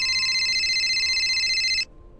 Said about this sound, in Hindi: केवल को उसके पिताजी का फोन आया।